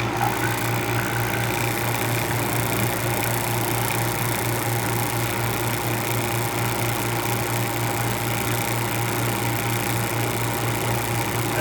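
Robinair 6 CFM vacuum pump running during a vacuum test, a steady mechanical drone with constant hum and no breaks, close and even throughout.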